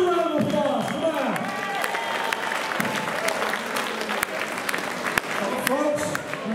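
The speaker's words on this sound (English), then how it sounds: "Give them a round of applause." Reunion-party crowd for the class of 1969 applauds steadily throughout, with scattered cheers and a voice talking loudly over the clapping.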